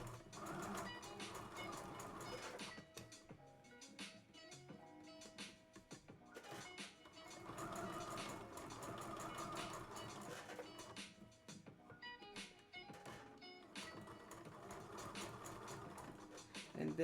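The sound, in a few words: sewing machine back stitching a kid's dress seam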